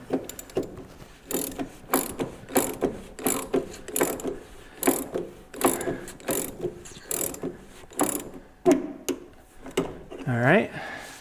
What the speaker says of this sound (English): Grab our wrench.